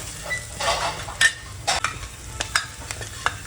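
Coriander powder and turmeric stirred into sizzling masala for village-style mutton curry, a steady frying hiss broken by several sharp scrapes of a spoon against the pan, close and alone with no talk.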